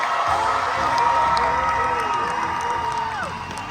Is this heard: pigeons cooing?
no